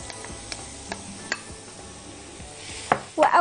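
Mushrooms sautéing in a pan, a low steady sizzle with occasional utensil clicks as they are stirred, then louder scraping bursts near the end; no talk.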